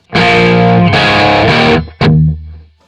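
Distorted electric guitar rhythm riff: loud chugging chords on the open low E, a brief muted gap, then a short ghost-note chunk before the riff resumes.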